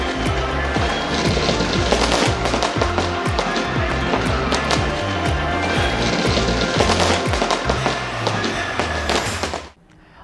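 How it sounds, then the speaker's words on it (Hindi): New Year fireworks in Sydney, a dense, loud barrage of rapid bangs and crackles running without pause before cutting off abruptly at the end. "सिडनी में नए साल का वेलकम आतिशबाजी के साथ हुआ"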